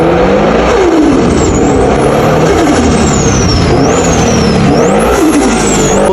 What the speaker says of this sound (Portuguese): Agora falando provavelmente da parte mais conhecida do turbo, o som.